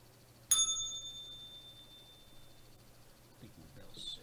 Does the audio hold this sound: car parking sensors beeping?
no